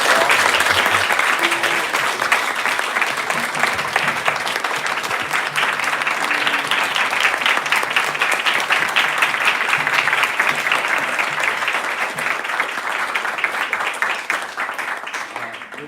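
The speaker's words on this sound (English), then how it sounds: "please let's give Maharaj a round of applause" Audience round of applause after a talk, dense sustained clapping from a crowd indoors that holds steady for about fifteen seconds before easing off.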